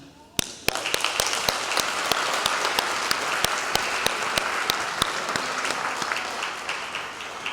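Audience at the Thornton High School class of 2023 graduation breaks into sustained applause for the graduates, a dense steady wash of many hands with a few sharp louder claps standing out near the front.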